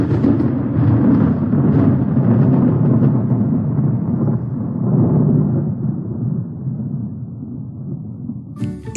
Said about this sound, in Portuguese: O som do trovão é um som grave.